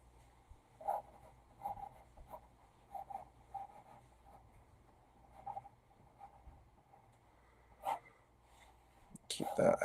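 Pencil sketching a phoenix on paper: soft, scratchy strokes in short irregular bursts, faint and close, with quiet room hum beneath and a louder rustle at the end.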